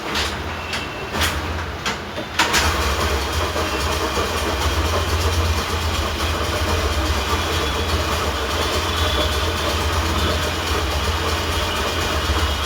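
A worn TVS Pep Plus BS3 scooter engine awaiting a rebuild runs close by, with a few sharp clicks before it settles into a loud, steady idle with a low drone and rattling texture.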